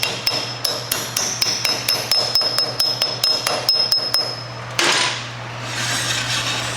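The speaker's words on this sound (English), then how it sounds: "then take the grease cap, tap it back on, and your hub's ready to go" A hammer taps a grease cap back onto the wheel hub of a 1968 Buick LeSabre, a steady run of about twenty sharp, close metallic knocks with a faint ringing tone, then a louder clatter and a soft hiss.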